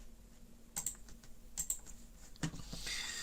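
Computer keyboard typing, a few quick bursts of keystrokes at close range in a quiet room, with no one talking.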